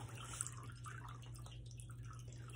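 Water drips from wet nuno-felted scarf material held over a bowl, faint scattered drips and trickles over a low steady hum, no voices.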